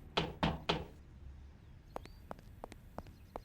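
Three loud, heavy knocks on a door in quick succession, followed by lighter tapping and thumps at an uneven pace, close and without speech.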